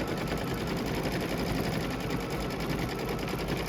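A sewing machine stitching custom quilting with an IQ Designer, running in a steady, continuous mechanical whir at an even pace with no breaks and no voices.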